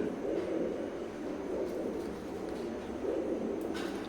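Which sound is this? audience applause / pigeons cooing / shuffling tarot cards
pigeons cooing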